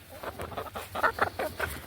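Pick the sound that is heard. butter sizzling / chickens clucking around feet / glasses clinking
chickens clucking around feet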